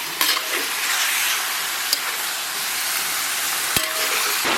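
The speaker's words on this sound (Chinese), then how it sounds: "咱把牛肉给它下里边，然后给它反复煸炒一下。" Beef stir-fried in a wok with seasonings, a loud, dense, continuous sizzle with a few sharp clanks of a spatula against the metal, close up.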